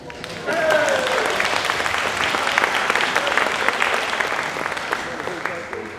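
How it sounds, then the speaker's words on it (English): An audience at a box lunch talk applauds in a steady, dense wash of clapping that holds for several seconds, fairly close and even, with a brief voice near the start. "Thank you for the great applause."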